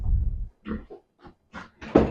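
Pig grunts in a pen, a low rumbling grunt followed by several short, separate snorts and oinks spaced over two seconds, close and fairly loud with no talk.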